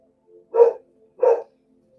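A dog gives two sharp, loud barks about half a second apart, close by, with silence around them.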